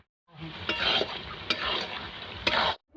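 Bhetki fish being cooked: spices, minced garlic, green chili and chili paste frying in oil with a steady close sizzle, cut by several sharp clinks of a spoon stirring against the pan, and no voices.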